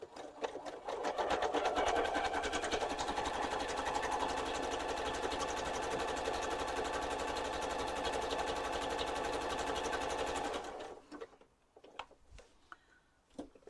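A sewing machine runs steadily for about ten seconds, sewing a close, dense satin stitch on quilt block fabric, its rapid needle ticking and motor hum loud and close before it stops, followed by a few faint handling sounds.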